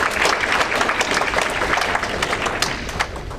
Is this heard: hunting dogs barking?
no